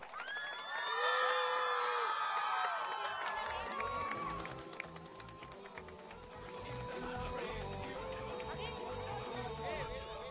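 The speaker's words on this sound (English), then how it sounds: "Can you all give a huge round of applause?" Children in a school annual day audience cheer and shout excitedly with high voices at the start, settling into a busy crowd roar with some scattered clapping underneath.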